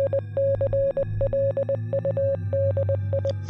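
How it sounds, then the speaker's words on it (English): Rapid Morse code SOS from a ship in distress, sent as crisp, evenly pitched beeps in short and long groups, repeating steadily over a low droning hum. "In Morse code, there is an SOS transmitted from a ship in trouble."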